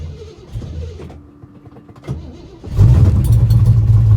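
An old 1955 carbureted engine starts cold on a chilly morning: a few faint cranks and clicks, then it catches and settles into a loud, rough, steady low idle.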